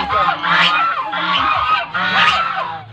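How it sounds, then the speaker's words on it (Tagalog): Several imported geese honk loudly and repeatedly close by on a farm, harsh overlapping calls in quick succession. "Andito na yung mga imported na gansa."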